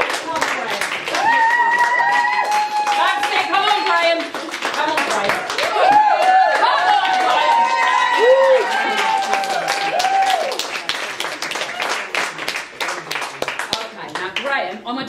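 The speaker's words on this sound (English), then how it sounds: "Round of applause for Graham." An audience at a party claps for a volunteer called up on stage, dense applause with cheers and voices mixed in, close and sustained for several seconds before thinning out.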